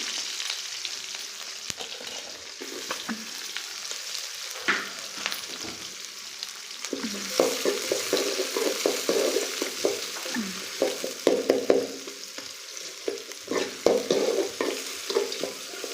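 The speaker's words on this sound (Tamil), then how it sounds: "நல்லா வெங்காயத்தை வணக்கிக்கலாம்" Onions sizzle and fry in a pan with fennel seeds and green chilies while a utensil stirs them in repeated scraping strokes, the sizzle swelling louder in the second half.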